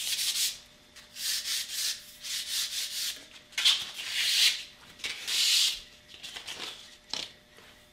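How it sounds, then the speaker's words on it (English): Hand sanding of thin sliced padauk and maple strips to remove fuzz, a close, rhythmic series of rasping back-and-forth strokes with short pauses between passes. "let me first of all sand the fuzzies off the bottom"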